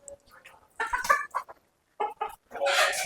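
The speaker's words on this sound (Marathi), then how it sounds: "बघा कसे एकदम तंदुरुस्त कोंबड्या" Farmyard hens and roosters cluck nearby in short, uneven bursts separated by brief quiet gaps, and a louder squawk arrives at the end.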